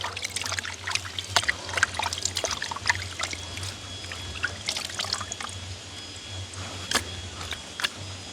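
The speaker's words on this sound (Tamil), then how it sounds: "இப்போ நல்ல வடிவாக கழுவுவோம்" Tilapia fish is washed by hand in water, with close splashing, trickling and sloshing that runs continuously, broken by sharper clicks and knocks against the pot, over a low steady background hum.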